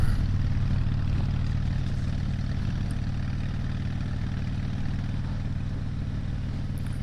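A motorcycle's engine drones steadily and evenly while riding on a mountain road near Pine, Colorado, a constant low rumble mixed with wind rush and no talking.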